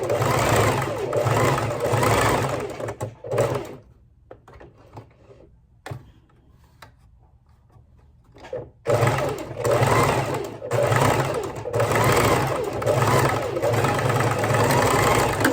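A sewing machine stitches a seam during a sewing lesson, with backstitching at the ends: a close, steady buzzing run, a pause of about five seconds with faint handling clicks, then the stitching resumes loudly to the end.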